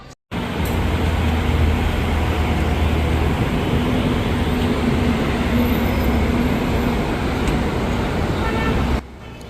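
A metro train heading toward the airport rumbles along with a constant, loud, close roar of wheels and carriage noise, steady for the whole stretch, with no speech.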